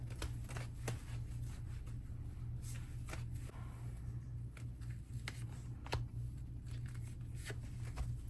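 Tarot cards are shuffled with soft rapid riffles and snapping taps, close by, over a low steady hum, no talking.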